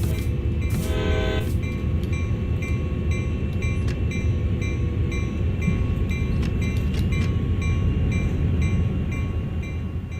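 A locomotive in Train Sim World creeping slowly onto a turntable, with a steady low rumble and a short horn blast near the start, then faint clanks and squeals over a continuous engine drone.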